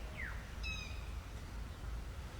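A bird gives a short, faint chirp and a brief trill at night in a jungle area near bushes, over a low steady background rumble.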